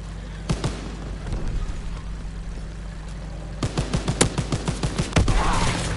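Gunfire in a Call of Duty World War II game comes as loud, sharp shots over a constant low engine drone: a few isolated cracks at first, then a rapid burst of repeated shots near the end.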